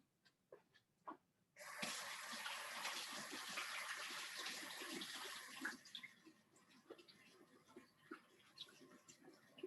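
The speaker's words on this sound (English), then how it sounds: "I have to frequently wash my hands" Running water from a tap while hands are washed during marzipan work in a kitchen, a sudden steady gush that lasts several seconds then cuts off, followed by scattered small splashes and handling noises, close and moderately loud.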